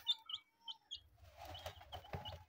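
Young chicks in a cage give several sharp, high chirps in quick succession early on, then softer rustling and handling noise as one is picked up.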